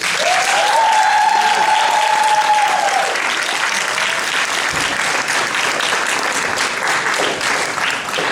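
A large audience breaks into loud, sustained applause welcoming a singer at a live interview event, with cheers and a whistle rising over the dense clapping early on.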